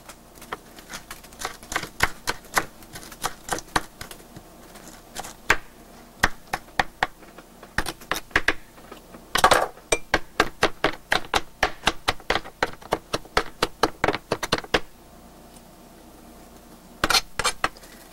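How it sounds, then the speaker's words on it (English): A knife chops through a small bundle of leaves on a cutting board in a home kitchen, giving quick rhythmic bursts of crisp taps that run in rapid runs, pause, and resume, close by with no voices. "I just make a little bundle and start chopping away"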